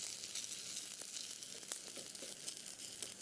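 A chicken burger patty frying in oil in a pan hisses with a steady, bright sizzle, crackling and spitting throughout at close range, with no talking.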